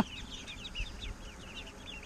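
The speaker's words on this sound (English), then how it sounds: "They've been peeping every once in a while" Small Blue Swedish ducklings, newly brought home from a farm, give repeated high, thin peeps in quick scattered bursts over a low steady background rumble, moderately close and with no talking.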